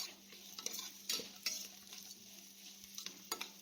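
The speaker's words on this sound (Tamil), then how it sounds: "க்ரீன் சில்லி போட்டு நல்லா இது வதக்கிட்டு" Green chillies sautéing in ghee for seeraga samba ghee rice give a faint steady sizzle, with a few sharp clinks of a spoon stirring against the pan.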